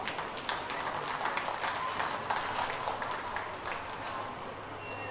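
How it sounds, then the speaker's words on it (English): Applause from the audience at a county youth fair and livestock show for the event's sponsors, fairly quiet scattered clapping heard at a distance that continues throughout. "Let's give those sponsors a big round of applause."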